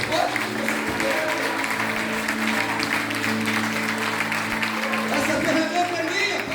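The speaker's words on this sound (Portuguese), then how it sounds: "Agora aplauda ele bem forte, mais forte que você puder." An audience at a church service applauds loudly, with dense, sustained clapping throughout and a voice speaking over it.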